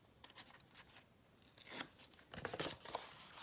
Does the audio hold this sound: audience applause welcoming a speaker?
no